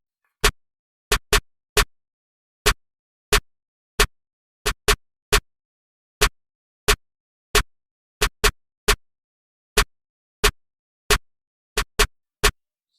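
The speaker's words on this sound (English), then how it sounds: "for the drums, I started off with this basic hood trap snare pattern" Sharp, dry snare hits repeat in a sparse, syncopated hood trap pattern programmed in FL Studio Mobile, each crack loud and isolated against silence.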